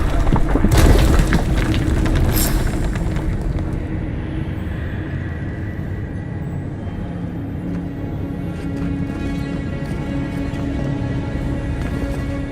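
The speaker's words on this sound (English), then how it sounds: "That was a damn big explosion, wasn't it?" A huge explosion in the fantasy game Avowed opens with a loud, deep boom that settles into a long, heavy rumble lasting for seconds.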